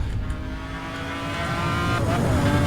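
A car accelerating in the racing game Need for Speed: Hot Pursuit (2010): a steady, strong engine drone that builds slightly in loudness and pitch over a few seconds, with a faint tire hiss underneath.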